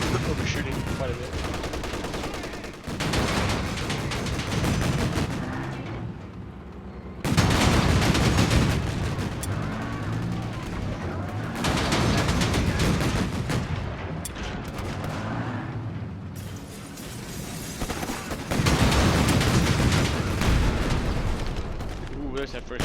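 Gunfire, machine-gun bursts and artillery blasts of a first strike ability attack in Company of Heroes 3 come in loud dense waves, with quieter gaps between them, while someone talks throughout.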